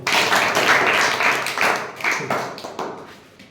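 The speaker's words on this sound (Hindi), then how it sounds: "तालियां बजाओ भाई" Applause at a summer vacation camp in Bavri village panchayat: a crowd claps in loud, uneven bursts that swell and fall several times, then thin out toward the end.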